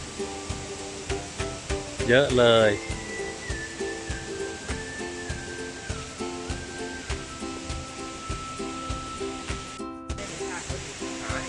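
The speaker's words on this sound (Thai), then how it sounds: "ได้ยินเสียงน้ำตกแล้วนะครับ" Hot spring waterfall in Krabi, Thailand, heard as a steady rush of falling water throughout, with a whistling tone and a person talking over it.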